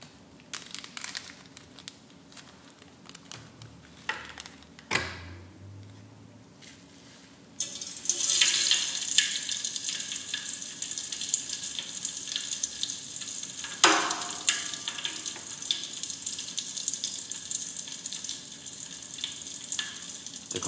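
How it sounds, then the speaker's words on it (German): A crackling bath, a bowl of water used as a percussion sound source, gives off a steady, dense fizzing crackle with a brief knock before it, continuous and close. "Knisterbad."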